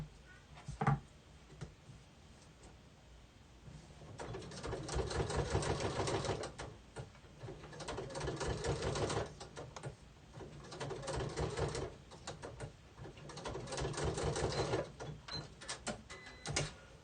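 A sewing machine runs in bursts of rapid mechanical stitching as it sews around a fabric postcard, with pauses between runs and a moderate, close, steady whirr.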